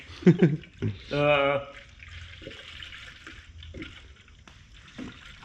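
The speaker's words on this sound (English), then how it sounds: "Throw some antifreeze in here" Antifreeze being poured through a funnel into the engine bay of a third-generation Toyota 4Runner with a 3.4L 5VZ-FE engine: a brief liquid glug and trickle near the start, with someone talking over it.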